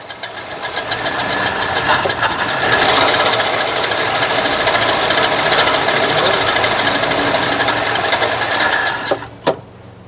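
A 1957 Chevy V8 engine, long stored and warming up with the choke open, runs with a steady rough idle and a knocking, rasping texture, close and loud for about nine seconds before cutting to quiet.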